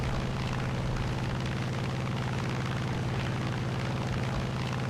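An F4U-1C Corsair fighter's piston engine drones in War Thunder, a loud, continuous, rumbling roar that holds steady from start to finish with no voices over it.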